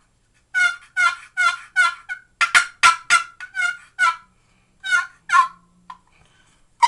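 A turkey hunting call being tested produces a series of loud, close yelps and clucks in quick bursts, with short pauses between groups and no talking.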